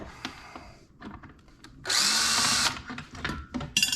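A power drill fitted with Milwaukee bits backs screws out of ceiling fan blades during a teardown for scrap, one loud whirring burst of under a second, framed by scattered clicks and handling knocks.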